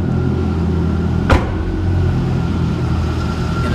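A 5.7-liter V8 in a used Chevrolet Corvette idles steadily and smoothly with a low rumble, heard close under the open hood, with a brief louder transient partway through.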